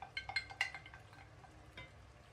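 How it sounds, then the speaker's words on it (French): A spoon stirring mafé sauce thickened with tomato paste in a cooking pot, a few quick scraping clinks at the start followed by quieter wet stirring, faint and close, with no voices. "On remue bien"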